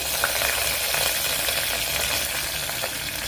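Mustard seeds sizzle and crackle in hot coconut oil while tempering a Kerala onion aviyal, a steady dense frying hiss with small pops, close and alone.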